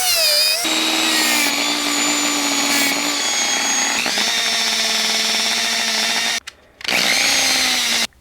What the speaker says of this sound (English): I think my Dremel's dying.